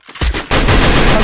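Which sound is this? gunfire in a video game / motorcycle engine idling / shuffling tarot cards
gunfire in a video game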